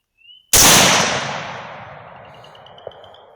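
A single rifle shot at a hog, 6.5 Grendel or 6.8 SPC, cracks out loud and sharp, then rolls away in a long fading echo over a couple of seconds, with a faint thump near the end.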